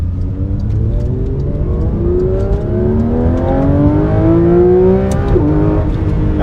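A Porsche GT4 RS engine revs hard through rising gears, its loud, close, continuous howl climbing in pitch with brief dips at each shift.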